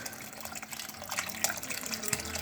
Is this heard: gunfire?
no